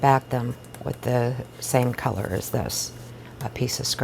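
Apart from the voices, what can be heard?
No everyday noise stands out behind the speech.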